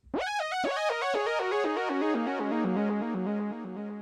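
A bright synth lead from the Friends preset in Analog Lab, playing a gliding, stepped melody with rich stacked harmonics and a touch of echo, sustained and loud on its own without any talking.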